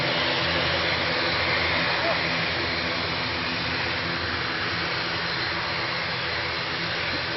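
A Logan Air ATR turboprop at Manchester airport gives off a steady, distant engine roar, even and continuous throughout, with a voice talking over it.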